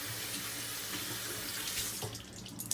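Steady water pouring from a tap into a sink while something is rinsed off, a close continuous rush that tapers and breaks up with a few splashes at the end.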